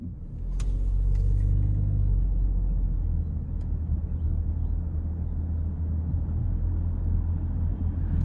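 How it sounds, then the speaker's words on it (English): A turbocharged three-cylinder engine in a 2026 Nissan Rogue S FWD runs while driving, giving a steady low rumble with road noise that holds at an even level, with a few faint clicks near the start. "Now the 3-cylinder, even though it's turboed, is very, very quiet, especially at idle."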